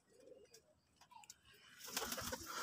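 Pigeons kept in a loft, including a recovering squab, give faint low coos early on before a louder burst of rustling and flapping noise takes over near the end.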